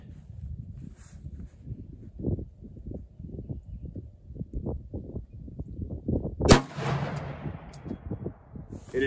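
A single rifle shot, fired at a steel silhouette target 300 yards away, cracks loudly about two-thirds of the way in and trails off in a short ringing decay. Low wind-like rumble runs throughout.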